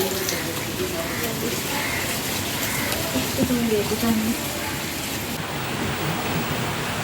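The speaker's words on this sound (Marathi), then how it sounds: "भरपूर पाऊस आहे" Heavy rain pours steadily as a dense hiss, with a person talking briefly over it.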